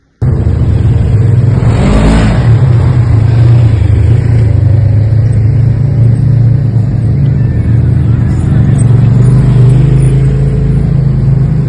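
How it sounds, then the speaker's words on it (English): Doom buggies on a Halloween tour in Virginia City, Nevada rumble past close by, a loud, steady low engine roar with a brief swell of noise early on, no voices. "Watching the doom buggies go by."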